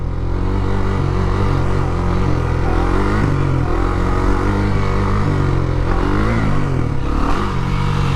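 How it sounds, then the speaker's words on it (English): A KTM Duke 390 motorcycle engine revs steadily up close with the throttle held open, a loud, continuous drone that rises and dips in pitch with a quick blip near the end, with no talking. "On the Duke 390, you should be able to pretty much just do this with the throttle"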